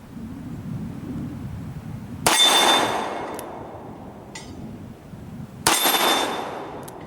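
Two loud, sharp reports from a Ruger Super Black Hawk .44 Magnum revolver, a few seconds apart, each followed by a long booming decay, heard outdoors over a steady low background rumble.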